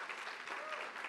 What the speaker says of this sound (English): So we'll give them a round of applause.